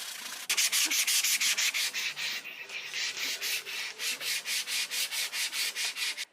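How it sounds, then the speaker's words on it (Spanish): Hand sanding of hardened fairing compound on the hull of a 50-year-old boat: steady rhythmic rasping strokes, close and fairly loud, repeating about three times a second with no talking. "voy a empezar a lijarlo hasta que quede suave"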